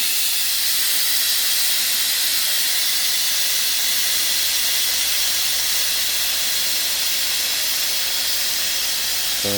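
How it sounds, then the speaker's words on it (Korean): Loud, steady steam hiss pours out of a pressure cooker release while boiling bossam pork, a broad rushing whoosh that holds without a break the whole way through. "5분 정도 하면은 김이 이 정도로 소리가 나면서 빠져요"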